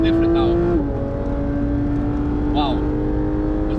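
Porsche GT3 fitted with a racecar handling mod driving the Nürburgring, heard from inside as a loud sustained engine drone that drops in pitch after a gear change, with someone talking over it.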